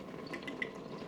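Worcester sauce poured from a 150 ml bottle into a measuring container while making corned beef hash, a faint, quiet trickle of liquid with small drips, no talking.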